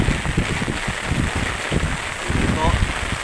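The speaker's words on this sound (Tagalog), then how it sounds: "napakatindi at napakalakas ng buhos ng ulan." Heavy rain from Typhoon Kristine pours down in Masbate Province, a dense steady hiss close by, overlaid by a person speaking throughout.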